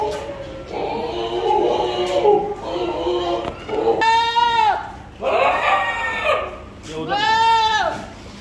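A big pink-faced goat buck at a breeder's pen bleats in several loud, close, quavering calls, each long and wavering, with background chatter and other animal noise between them.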